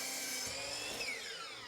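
A miter saw cutting a short wooden board at an 8-degree angle, a close, bright whining cut with a rising rasp partway through, steady and loud with no talking.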